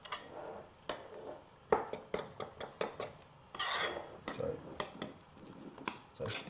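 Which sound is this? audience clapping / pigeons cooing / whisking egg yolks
whisking egg yolks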